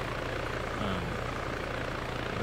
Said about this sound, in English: Eventually your helicopter will stable itself out.